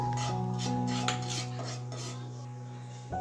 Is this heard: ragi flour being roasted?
yes